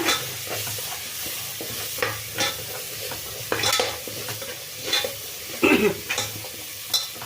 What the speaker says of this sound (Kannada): ಒಂದು ಸ್ಪೂನ್ ಅದನ್ನು ಹಾಕ್ಕೊಂಡು ಚೆಂದಾಗಿ ಎಣ್ಣೆನಲ್ಲಿ ಫ್ರೈ ಮಾಡ್ಕೊಳ್ಳೋಣ